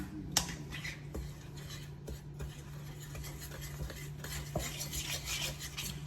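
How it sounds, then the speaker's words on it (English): Meatball ingredients being mixed into a paste by hand in a bowl, giving soft, continuous scraping and squelching with a few sharp clinks against the dish, close and fairly quiet, with no one talking. "Now I'm gonna mix those ingredients here."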